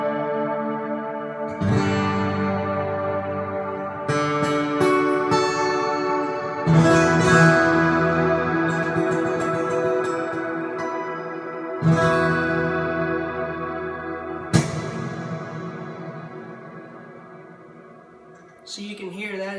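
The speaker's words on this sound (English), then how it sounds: "So you can hear that is a very big reverb." Guitar played through a pedalboard with a huge modulated reverb, sustained chords blooming into long washy tails with repeated strummed attacks, loud and close, no talking.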